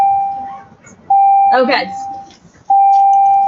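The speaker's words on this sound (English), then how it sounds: "I'm stopping there in that annoying place because the bell's ringing" A classroom bell sounds as a steady electronic tone in two long bursts, loud and close, with a brief spoken word in between.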